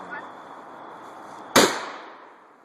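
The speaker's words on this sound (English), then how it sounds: "Shoot one of these logs here to show what a slug is." A 12-gauge shotgun fires a single standard slug into a log outdoors: one sharp, loud blast partway through, with a ringing decay over a quiet background hiss.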